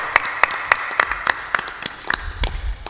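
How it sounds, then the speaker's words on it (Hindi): Applause from a crowd gathered at a Hindu satsang spiritual discourse, a thin, scattered patter of separate claps in a brief burst, fairly close and modest in strength with no voices over it. "थोड़ा जोरदार ताली बजाया करो आप लोग।"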